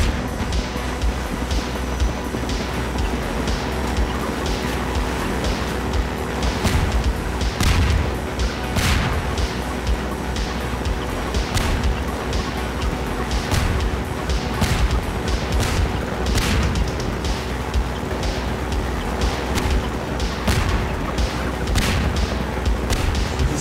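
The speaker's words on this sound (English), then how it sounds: "You can stop with the bombs now." Repeated bomb blasts and booms in Half-Life 2 gameplay, coming as a steady run of loud, dense impacts and crashes over a constant rumbling backdrop with no talking.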